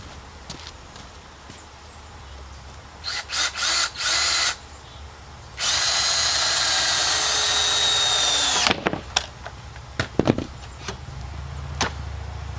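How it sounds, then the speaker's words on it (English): Power drill driving screws into a rotted wooden picnic table: a short stuttering burst of whirring, then one long steady high whine lasting about three seconds, followed by a few sharp knocks and clicks. "So we're going to drive a couple screws in here."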